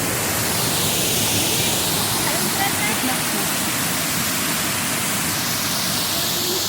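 Water pours over a dam in a dense, unbroken roar that fills the whole stretch evenly, loud and close with no pauses.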